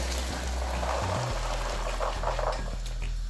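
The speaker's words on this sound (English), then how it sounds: "we have to take this water out. This is the first water. Now we take it out." Water from a pot of boiling beans being poured out, a steady close liquid rush with splashing over a low hum, continuous for the whole stretch.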